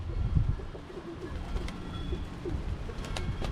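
Young roller pigeons take off and flap around outdoors during a training session, with soft coos and wing sounds rising and falling over steady low background noise, fairly close and moderately loud.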